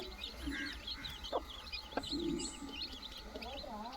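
Soft, repeated clucking and peeping from chicks nearby, scattered over a steady outdoor background with faint chirps.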